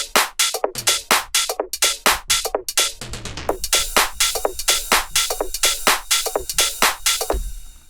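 A punchy tech house electronic drum loop with crisp hi-hats and snappy hits in a steady groove, a short fill near the middle, no voices.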